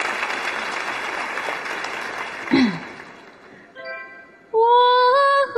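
A TV job-show studio audience claps in a sustained burst of applause for a contestant, which fades out before a brief voice and then a woman starts singing.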